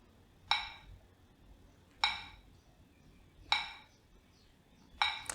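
Slow metronome clicks for paced breathing, four bright, glassy ticks evenly spaced about one and a half seconds apart, each with a short ringing decay over a quiet background.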